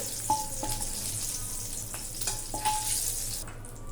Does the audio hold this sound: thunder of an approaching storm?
no